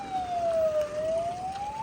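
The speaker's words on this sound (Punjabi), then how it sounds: "ਐਂਬੂਲੈਂਸ ਪੁਲਿਸ ਮੌਕੇ ਤੇ ਆ ਗਈ" A wailing ambulance or police siren at the scene of a road crash between a bus and a combine harvester, rising and falling steadily over a low road rumble, moderately distant and continuous throughout.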